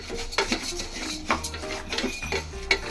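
Moong dal frying in ghee in a pan for payasam, stirred with a spatula that scrapes and clinks against the metal in irregular strokes, close up, over a low background bed.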